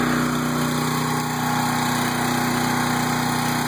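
A Champion tri-fuel generator fitted with a Motor Snorkel conversion runs on natural gas, giving a steady, loud, close engine drone with a constant hum and no talking over it.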